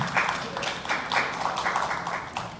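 Applause from an audience welcoming a speaker onto the stage at a talk, a steady wash of clapping with a few sharper bursts, moderately loud and free of talk.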